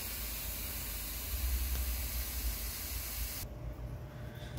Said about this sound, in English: Now we got a good spray here.